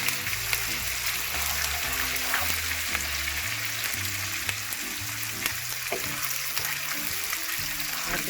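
Chopped onion fries in a hot pan, a continuous crackling sizzle close by, with low background music running beneath it.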